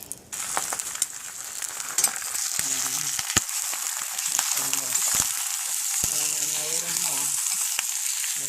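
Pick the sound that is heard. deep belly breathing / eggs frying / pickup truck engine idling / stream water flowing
eggs frying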